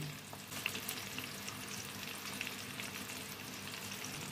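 Hibiscus and aloe vera fry in oil for a homemade ayurvedic hair oil, giving a soft, continuous crackling sizzle with a few small pops, quiet and steady throughout with no talking.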